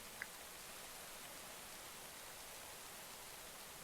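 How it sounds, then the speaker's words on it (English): Rain falls steadily in a video game world, an even, soft hiss of rainfall with one tiny tap near the start and no voices. "And it's once again raining."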